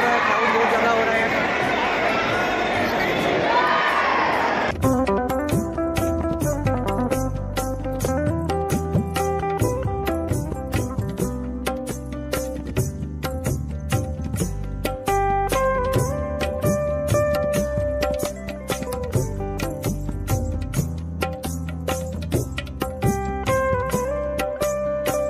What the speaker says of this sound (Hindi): यहाँ पर आपको मेरी आवाज़ नहीं सुनाई देगी क्योंकि भीड़ बहुत ज़्यादा है और क्राउड बहुत ज़्यादा हो रहा है